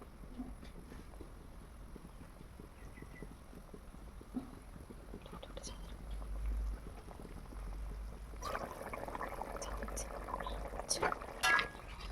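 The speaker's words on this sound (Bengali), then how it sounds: "দেখো বন্ধুরা ঝোলটা খুব সুন্দরভাবে ফুটে গিয়েছে" A thin rohu fish curry with taro and potato bubbles at a steady simmer, a faint continuous burble of boiling liquid that swells louder toward the end, with a voice speaking over it.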